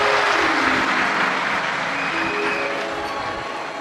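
A large crowd at a Shiv Mahapuran religious discourse in Vidisha claps in welcome, producing a dense, continuous roar of applause that fades slightly toward the end.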